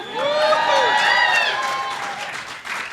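A town hall crowd applauds and cheers loudly and steadily, with bright whoops and shouts rising over dense clapping before it eases off slightly near the end.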